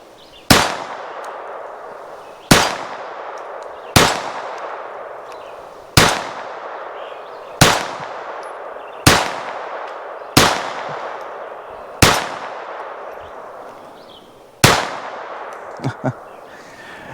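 Ruger SR22 pistol fired at a target range: nine sharp, loud shots spaced about two seconds apart, each with a short ringing decay and no talk between them.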